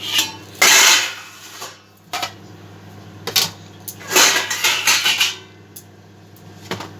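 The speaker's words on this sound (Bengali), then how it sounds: "এবার আমি চাপাটা খুলি" Metal clatter and scraping as the lid comes off a pot of boiling chicken biryani on a gas stove, with a few sharp clanks and rattles over a low steady hum.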